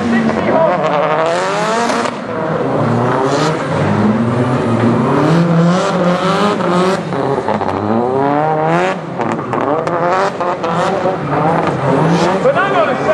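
A 760-horsepower stunt show car in an outdoor arena in Belfast's Titanic Quarter revs hard and swings through loud, close repeated acceleration sweeps and tire squeals, with someone talking over it.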